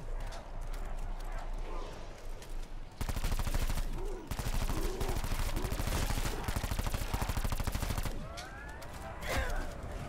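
Rapid automatic fire from an un-upgraded Cordite weapon in Black Ops 4 Zombies, with loud sustained bursts separated by short pauses and lighter sounds of the game between them.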